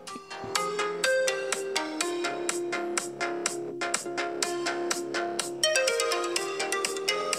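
A ringtone chimes from a Huawei Mate 9 phone's dual bottom- and front-firing speakers, a bright, rapid melodic pattern of plucked notes repeating steadily for several seconds at a moderate level with no talk.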